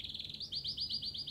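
A canary in the video game Heavy Rain chirps in a quick run of bright, repeated tweets, close and clear over a quiet background.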